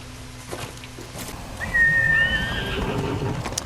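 A horse in the video game Ghost of Tsushima lets out a clear, whistling whinny midway, heard close against quiet ambient game sound with faint hoof-like taps.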